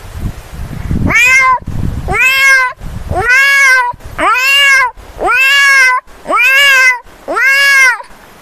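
Someone mimics a cat, giving seven drawn-out meows one after another at a steady pace, loud and close, with no other sounds.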